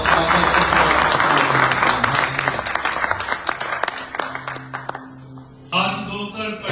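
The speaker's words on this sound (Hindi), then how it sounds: "आप सबकी भरपूर तालियों में दावत दूंगा पास्टर आसिफ नजर को" An audience applauds to welcome a pastor to the stage at a church gathering. Loud, dense clapping starts at once, gradually thins into scattered claps, and fades out as other sounds come in at the end.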